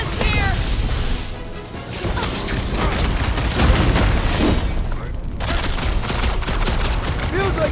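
Sustained gunfire and crashing impacts in the Guardians of the Galaxy video game, loud and dense throughout a chaotic battle, with a brief break near the middle before the barrage resumes.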